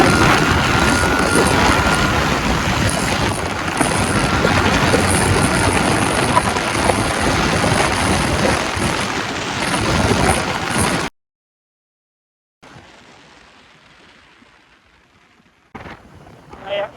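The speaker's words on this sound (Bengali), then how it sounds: "তো এখন সেকেন্ড গিয়ারে আছে বাইকটাতে।" A Suzuki GSX-R sportbike with stock parts accelerates hard in second gear, its loud engine roaring steadily for about eleven seconds before cutting out abruptly into near silence, followed by faint, muffled noise.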